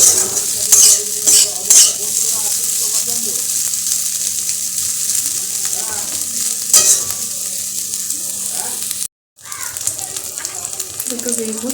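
Food frying in a little oil at a stall during an outdoor winter fair, a loud close sizzle with brisk spatula scrapes and stirring, a brief dropout near the end and a voice now and then.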